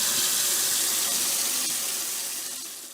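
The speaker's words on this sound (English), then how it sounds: "He uses the water to clean Mr. Dinosaur's teeth. Slosh, slosh, slosh." A dentist's water jet cleaning teeth, heard as a continuous bright hiss of spraying water that stays loud and steady before fading slightly at the end, with no talking.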